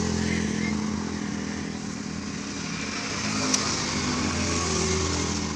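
A bus engine labors up a steep hill on a road in Indonesia, a loud continuous rumble with some clatter and other traffic noise around it.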